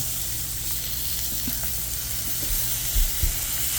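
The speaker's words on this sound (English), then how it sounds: "Gotta love that sizzle as soon as you put them on." Food sizzles steadily in a hot pan, a constant crackling hiss with a few soft clunks near the end.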